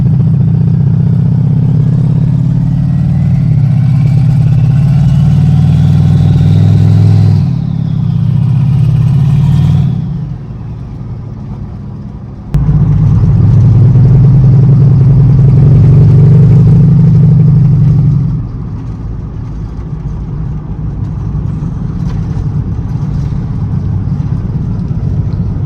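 A boosted Chevrolet Tahoe drives at night with a loud, deep engine drone inside the cabin. The note rises and falls as it revs, drops out briefly partway through, then returns strong before easing to a lower cruise.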